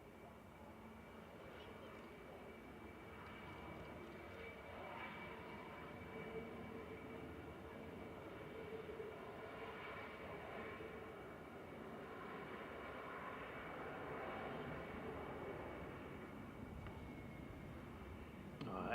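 Air Canada airliner on Toronto flight 908 coming over the runway threshold at Manchester Airport, a steady engine roar that builds gradually over about twenty seconds, heard from a distance with faint voices in the background.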